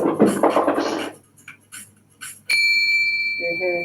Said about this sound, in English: When the bell rings again, they will move.